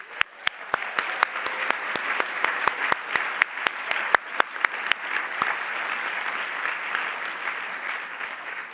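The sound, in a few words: commencement audience applause for faculty and staff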